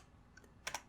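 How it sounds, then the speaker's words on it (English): A few soft, close keystrokes on a computer keyboard, with two slightly louder clicks near the end, in otherwise quiet surroundings. "ASMR of me typing"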